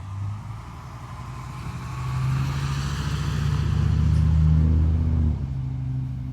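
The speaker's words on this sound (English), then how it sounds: "Let me stop talking to let the bus pass." A bus passes nearby outdoors on a fall walk, its engine rumble rising and holding low tones before fading, loud and close with no talking.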